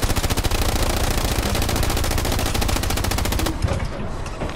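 Sustained automatic gunfire in the WWII shooter Hell Let Loose, a loud, dense rapid burst running nearly the whole time before cutting off into a brief echoing tail.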